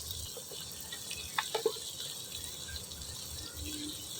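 Water poured into a pan of spiced duck meat curry with turmeric and coriander powder, giving a running, splashy trickle with a few sharper splashes midway over a low background hiss and no speech.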